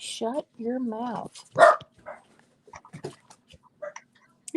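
A dog lets out a few sharp, close barks and yips in a home, followed by quieter scattered sounds and a voice talking.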